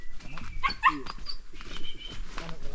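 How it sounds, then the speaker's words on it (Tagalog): A dog that hunts monitor lizards gives a few short barks and yips, moderately close, against a busy outdoor background with faint voices, in reed-covered land near a waterfall. "May kasama kaming aso."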